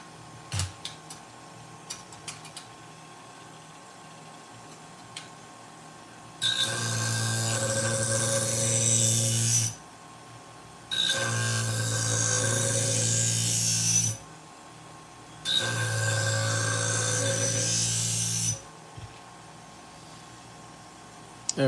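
Sewing scissors are sharpened on a powered grinder or sharpener as material comes off the blade, giving three loud, sustained grinding bursts of about three seconds each, with quiet pauses and small ticks between them.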